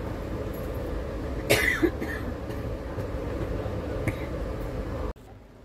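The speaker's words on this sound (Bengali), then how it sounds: "ট্রেন ছেড়েছে।" A train pulling out of Andal Junction, a steady low rumble of the moving carriages throughout, with a brief cough-like burst and a few faint clanks before the noise cuts off abruptly near the end.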